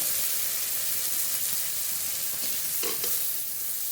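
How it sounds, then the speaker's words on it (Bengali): A spice paste of coriander, cumin, dried and green chillies, salt and turmeric fries in a pan with a little water, producing a constant close hissing sizzle and a brief scrape of stirring near the end. "একটু জল দিয়ে মশলাটা কষিয়ে নেব"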